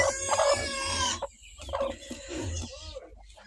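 Broody hens in a village yard give loud, close clucking and drawn-out calls, with a short lull midway before the calls resume.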